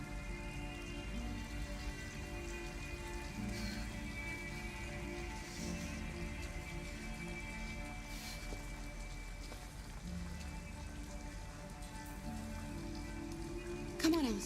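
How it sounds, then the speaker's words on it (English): Steady rain pours down in a rainy night scene from the video game Detroit: Become Human, a dense, even hiss with a low rumble that persists throughout, ending with a brief louder splash near the end. "I have to get her out of the rain"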